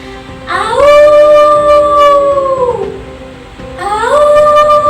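A voice imitates a howling wind with a long, loud, wavering howl that bends down at the end, followed by a second howl rising after a short break, in a spoken monologue performance.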